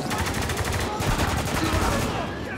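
Gunfire in the Spec Ops: The Line game: a dense, continuous burst of automatic weapon fire rattling on for a couple of seconds, loud and close, with no clear pauses between shots.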